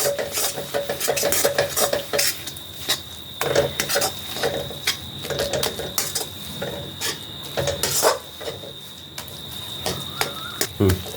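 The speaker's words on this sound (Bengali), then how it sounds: "নাড়ু বানানো সহজ কিন্তু আমার খুব টাফ দেখুন চিট হয়ে আসছে এখন সমানে নাড়তে হবে" Coconut naru mixture being stirred in a pan, a spoon scraping and clinking against the metal in an uneven rhythm, close and moderately loud under a faint background whine.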